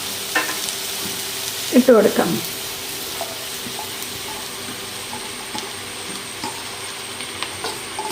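Leftover bread pieces drop into a hot pan for upma and are stirred. There is a loud clatter and scrape near the start, then a steady sizzle with light stirring scrapes throughout.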